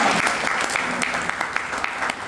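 An audience at a business motivational seminar claps continuously in a dense patter of many hands. Sharper individual claps poke out of the steady applause.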